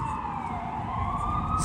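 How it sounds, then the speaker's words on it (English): An ambulance siren wails through New York City traffic in Manhattan, a steady rising tone that carries over the hum of the street, fairly close and unbroken. "So the siren is an ambulance."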